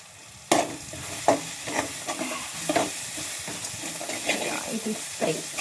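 Tempering fries in a hot pan with a continuous sizzle, broken by sharp spoon clinks and stirring scrapes at irregular intervals, close and clear, with no talking.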